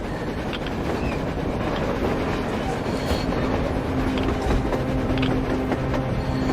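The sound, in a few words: train passing in video game Metro Exodus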